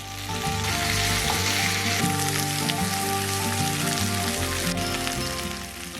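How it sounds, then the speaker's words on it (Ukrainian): Fish sizzles and crackles steadily in a hot pan, a constant hiss of frying over soft background music. "Час від часу обертаємо та смажимо з кожного боку до золотистої скоринки."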